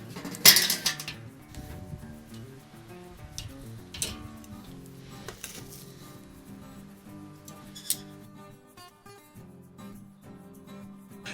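Ribeye steaks laid onto the metal grate of a charcoal kettle grill for a reverse sear, heard as close, scattered clinks and taps of grate and tongs over a quiet background.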